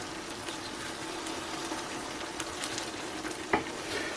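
Beef and vegetables sauté in a pot with a steady, soft sizzle and faint bubbling, alongside a few light stirring clicks and one brief utensil knock near the end.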